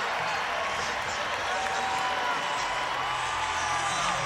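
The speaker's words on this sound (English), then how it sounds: "All of a sudden, a little life in this Baylor crowd." Baylor home crowd at a college football game against Houston, a steady far-off roar of cheering and scattered whoops rising slightly, filling the stadium with no distinct voices in front.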